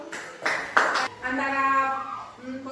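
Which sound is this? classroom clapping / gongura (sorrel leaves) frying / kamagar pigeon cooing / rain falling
classroom clapping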